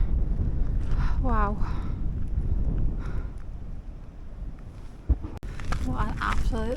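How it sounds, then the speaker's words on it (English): Strong wind buffets a microphone high on a Cairngorms mountain, with a steady rumbling roar through the whole clip and a sharp gust thump near the end. A voice speaks briefly under it. "Oh, it's windy up here."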